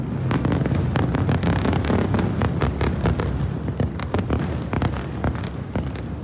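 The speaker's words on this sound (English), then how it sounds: "As the sun set, the explosions rang out." Explosions from a bombardment on Beirut at sunset, a rapid, irregular barrage of sharp cracking blasts overlapping with a deep rumbling roll, loud and relentless throughout.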